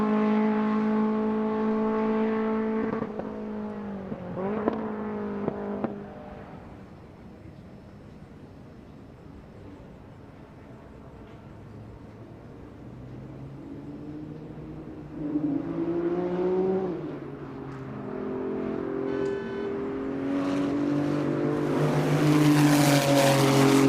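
A time attack race car laps Road Atlanta, its engine note rising and falling as it passes and shifts gears, fading to a distant drone in the middle and then surging back loud toward the end.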